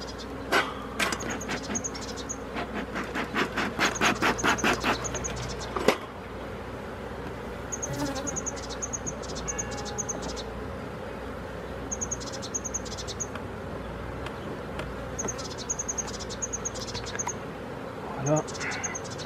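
Honey bees buzz around an open hive during a spring inspection, a busy, continuous drone close by, with brief clatters of equipment and crickets chirping repeatedly in the background.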